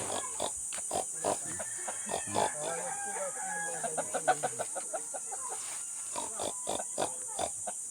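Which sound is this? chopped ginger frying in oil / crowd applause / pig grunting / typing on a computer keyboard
pig grunting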